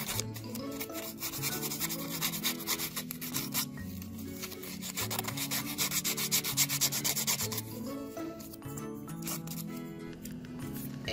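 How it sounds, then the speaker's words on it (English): Balsa wood glider tail fin being sanded by hand: repeated rhythmic rasping strokes, close and fairly loud, with a brief pause partway through and no talk. "It is really tough to sand after a glider has been built, so make sure you do this before any assembly."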